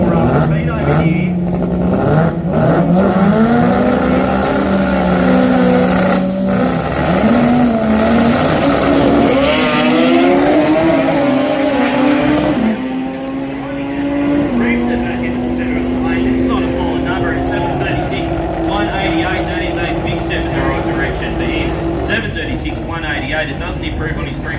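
A race car roars at full power down the track during a run at the 2024 Garrett Brisbane Jamboree, a loud, sustained engine drone with rising pitch, heard under continuous commentary.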